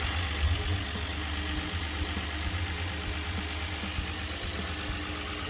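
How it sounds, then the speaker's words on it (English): An engine with freshly fitted lifters idles steadily with a loud, even drone and a constant rapid ticking rattle like a diesel. It is heard up close, with no talk over it. "So it's as rattly as a diesel at the moment"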